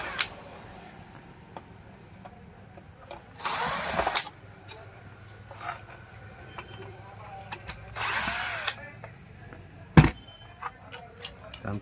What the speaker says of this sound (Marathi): आधी एक नट बोल्ट स्क्रू काढून घेऊया आपण